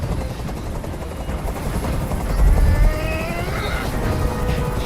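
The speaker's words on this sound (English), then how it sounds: "Tell that helicopter to get out of here." A helicopter hovering overhead in the video game Detroit: Become Human, a loud, continuous rotor drone with a steady low thrum that swells slightly midway, with no voices.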